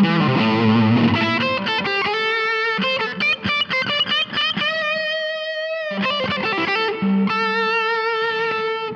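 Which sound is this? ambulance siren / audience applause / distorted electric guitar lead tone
distorted electric guitar lead tone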